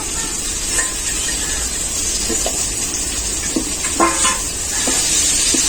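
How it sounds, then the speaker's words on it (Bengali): Potato and eggplant fry in a covered pan, a continuous broad hiss of sizzling oil with occasional light knocks and scrapes, steady and close, without speech. "আলু আর বেগুনটাকে এরপর আমি ঢাকাতে ঢাকাতে খুব ভালো করে ভেজে নেবো"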